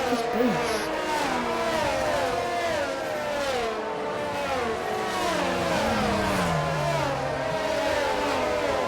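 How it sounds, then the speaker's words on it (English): Alpine race car engine at Silverstone during a sim racing broadcast, revving and shifting through gears with rising and falling whines, mixed under commentators talking. "Look at the noise on the Alpine."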